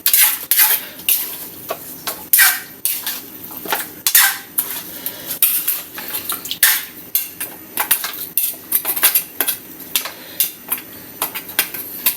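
Pork feet being stirred in a metal cooking pot, with repeated loud clanks and scrapes of the utensil against the pot in an uneven rhythm, close up, with no voices.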